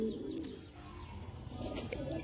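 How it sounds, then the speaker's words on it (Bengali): Pigeons in a loft coo softly and intermittently, a low rolling murmur fairly close by with faint background ambience and no talking. "আন্ধ্রা থেকে আনানো হচ্ছে পায়রাগুলো"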